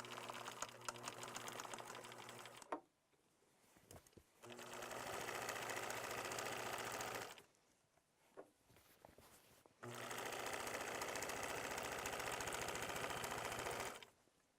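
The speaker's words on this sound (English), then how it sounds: "I'm going to sew up the side seam." A sewing machine stitches a pillowcase side seam in two long steady bursts of rapid mechanical stitching, separated by a quiet pause with a few small clicks and handling sounds.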